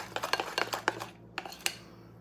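A spoon scraping and tapping around a pot while a flour-thickened sauce is stirred, a quick series of soft clinks and scrapes, close and faint, over a low steady hum.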